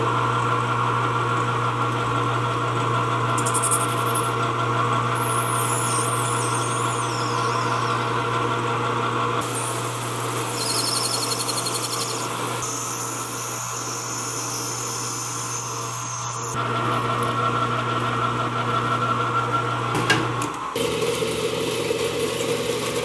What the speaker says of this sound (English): let's go to the lathe and we'll make up a couple steering stops